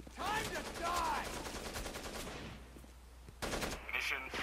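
Rapid automatic gunfire in the tactical shooter game Rainbow Six Vegas 2, bursts of sharp shots crackling through the scene beneath players shouting excitedly, moderately loud with a fresh volley near the end.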